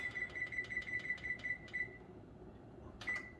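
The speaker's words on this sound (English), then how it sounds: "now baby's gonna set the timer" A kitchen timer being set for 30 minutes gives a quick run of about ten short, evenly spaced electronic beeps. A pause follows, then one final beep, all over a low background hum while potatoes are set to boil.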